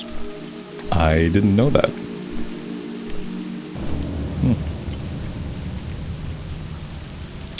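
Rain and a thunder rumble in Deadwind Pass in World of Warcraft Classic, a steady wash of rainfall under a brief spoken remark near the start.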